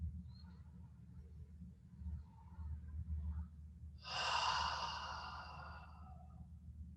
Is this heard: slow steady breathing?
yes